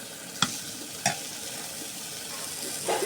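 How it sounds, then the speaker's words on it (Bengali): Onions and pointed gourd fry with spices in a pan, a soft, continuous sizzle broken by a few sharp scrapes of stirring. "মশলা দিয়ে আমি এটা আবার ভাজে নিব"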